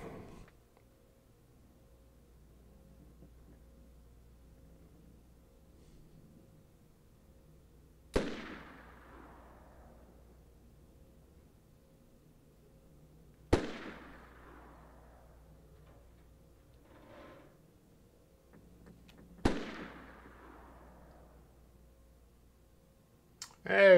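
Three sharp gunshots from the video game DayZ, coming from two different guns, crack out several seconds apart, each with a quick decaying tail, against a quiet low background.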